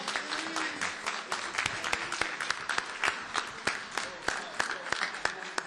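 Applause from an audience at a Melave Malka evening gathering, many hands clapping in a dense, continuous patter heard from a short distance, with a voice audible alongside.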